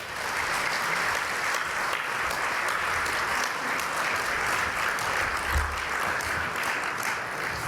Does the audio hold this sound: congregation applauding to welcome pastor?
yes